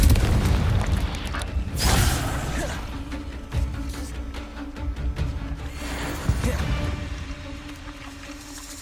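A Confringo blasting-spell explosion in Hogwarts Legacy: a loud booming blast near the start, followed by rumbling debris, mechanical clanks and quieter follow-up thuds.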